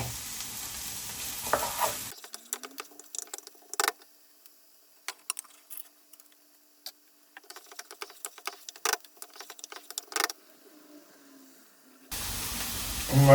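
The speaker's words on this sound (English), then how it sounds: "with those onions softened, we're going to add our garlic and ginger. Fry that off" Garlic and ginger fry with softened onions in a pan for a vindaloo curry, giving close, intermittent crackling and spitting in scattered bursts separated by near-silent gaps.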